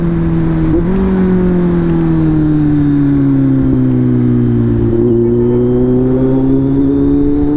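A Kawasaki Z900 SE with a 948cc four-cylinder engine drones loudly and continuously up close, its pitch rising and falling as it revs and engine-brakes during a test ride.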